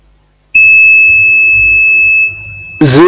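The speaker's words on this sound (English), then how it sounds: "So I'm on diode mode, the beeping mode." A multimeter in diode mode gives a single continuous high-pitched electronic beep, loud, for about two seconds, then a brief voice begins at the end.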